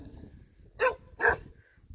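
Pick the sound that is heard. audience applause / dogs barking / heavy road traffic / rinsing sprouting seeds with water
dogs barking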